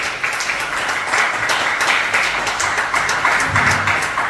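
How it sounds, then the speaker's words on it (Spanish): Church congregation applauding during a sermon on Christian baptism, a steady wash of many hands clapping together at moderate volume, with no voice over it for the full span. "déle un fuerte aplauso al Señor"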